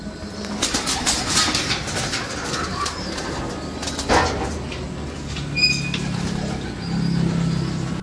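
Racing pigeons coo and rustle inside a loft, several soft throaty calls and occasional wing flutters close by, with a few squeaks, some shuffling and no talk.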